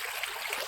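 Naturally filtered water trickles softly and continuously at the Khodiyar temple in Bhavnagar district, a brief, even burble with no voices.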